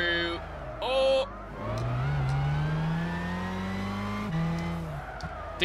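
A Super GT500 race car in Gran Turismo 6 skids into a corner, its engine droning steadily with a rising pitch and tire scrub over it, loud and continuous after a couple of short bursts.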